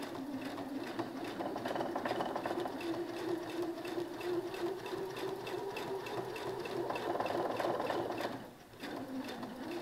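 A sewing machine runs steadily through a dress seam, its close, even motor whir and rapid needle patter continuing alone for most of the stretch before a brief pause near the end and a restart.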